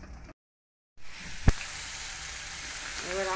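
Sliced onions go into hot oil with a sharp thud, then a steady hissing sizzle follows after a short silent cut. A voice comes in faintly near the end.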